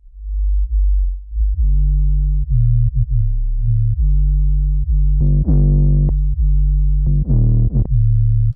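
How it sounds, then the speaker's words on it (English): 808 bass run through an Iceberg Audio Sub Cut high-pass filter: sustained deep tones shift pitch in a slow bassline, loud and close, joined by a brighter layered synth note in places, with no speech. "So now let's see how it sounds on an 808. So this is basically an high pass."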